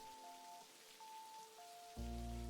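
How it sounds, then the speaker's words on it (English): Video game rain falls steadily as a soft wash of drops on a surface, with tonal game music notes over it; the whole scene swells louder near the end. "Just try and enjoy the rain."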